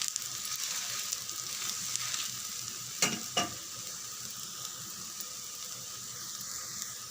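Wheat rava dosa sizzles in oil on a pan with a soft, steady hiss throughout, broken midway by two brief sharp scraping taps close together.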